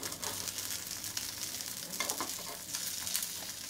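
Sabudana vada appam frying in an appam pan, a continuous close sizzle of hot oil with soft scrapes and taps as the pieces are turned over one by one.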